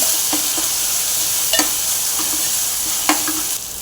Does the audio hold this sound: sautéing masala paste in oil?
yes